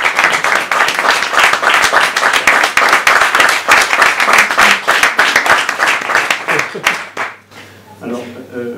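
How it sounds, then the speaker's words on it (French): Audience at an evening public talk applauds a guest, with many hands clapping briskly and loudly for about seven seconds before it dies away and someone starts speaking. "Donc on va l'applaudir tout simplement."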